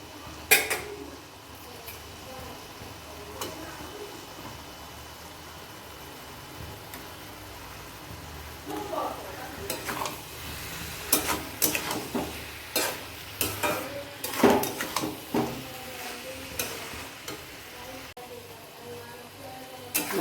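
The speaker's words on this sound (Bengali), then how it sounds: "চাল কোমরটা ভাজা ভাজা হয়ে গেছে, এখন এটার মধ্যে আমি ইলিশ মাছের মাথাটা দিয়ে দিচ্ছি।" Hilsa fish head frying with ash gourd in a pan: a soft steady sizzle, then stirring and scraping with clattering knocks that grow busier and louder toward the end.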